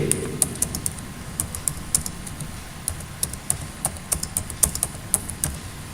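Steady typing on a computer keyboard, with quick, uneven runs of sharp key clacks close by and continuing without pause, no voices over it.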